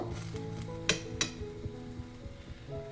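Ragi paratha cooking with oil on a pan over medium heat, a soft steady sizzle with a couple of sharp clinks of a utensil against the pan, quiet and close with no talk.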